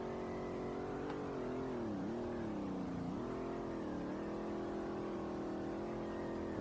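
A Nissan 350Z engine drones steadily during a drift on Mount Akina in the SLRR racing game, with the pitch dipping and rising as revs change through the corners, a continuous moderate-level drone with no talk.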